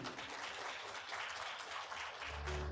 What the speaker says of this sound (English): Big applause for the two gentlemen.